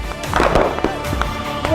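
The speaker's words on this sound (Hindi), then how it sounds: "ओ धमाके हो रहे हैं भाई।" A kilogram of sodium reacts with water in a series of sharp, popping blasts, irregular bursts cracking close by amid splashing and background noise.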